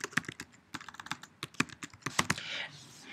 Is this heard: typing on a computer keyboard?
yes